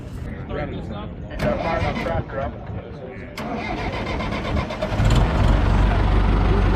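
A farm machine's engine at an auction cranks over and catches, building to a steady loud idle, with people talking over it throughout.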